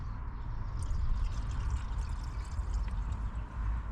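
Oil pours in a steady, gurgling stream into the crankcase of a Vauxhall Cavalier Diplomat engine, close by and continuous, with no talk over it.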